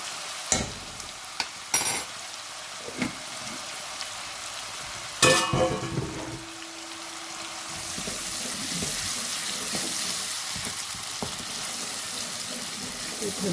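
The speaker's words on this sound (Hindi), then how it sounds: "ये मैं कुटी हुई मिर्चें डाल रही हूँ" Crushed chilies fry in hot oil in a pan for aloo gobhi, a faint crackle at first that grows into a steady, loud sizzling hiss, with a few knocks and clatters early on.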